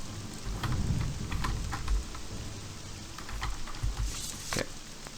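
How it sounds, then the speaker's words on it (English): Steady rain falls in the world of the Morrowind video game, a continuous hiss with soft low rumbling beneath and a few sharper drop-like ticks scattered through, no voices present. "And now it's raining again."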